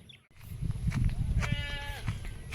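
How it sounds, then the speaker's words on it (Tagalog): Goats on a farm give a single wavering bleat mid-distance over a rustling, noisy background with some faint voices. "Yung ating mga kambing mamaya papainumin din natin yan."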